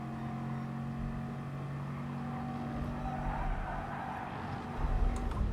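A race car engine in GT Sport drones at steady high revs during an FIA Nations race at Lago Maggiore, faint and continuous with a sustained tonal whine that swells slightly near the end.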